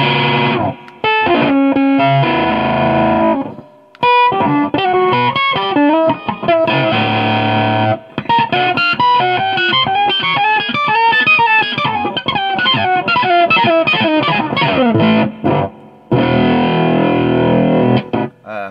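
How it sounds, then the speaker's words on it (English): Heavily distorted electric guitar run through a Moose Customs Electronics robot-effect pedal, producing glitchy, warbling robotic tones in choppy bursts with brief gaps between phrases. "If you like making crazy robot sounds, this is the one for you."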